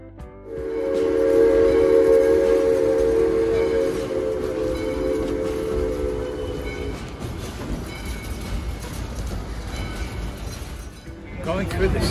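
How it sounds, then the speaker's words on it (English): A late-1920s Shay steam locomotive hauling a classic train through the sequoia forest of Yosemite National Park sounds a long, loud whistle blast, then keeps rumbling and chugging steadily as a voice talks over it. "We're on a classic steam train heading through the sequoia groves and the forest here in Yosemite National Park."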